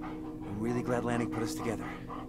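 A dog in the Blair Witch video game whimpering and panting while being petted, close and soft, with brief yips over a steady low background.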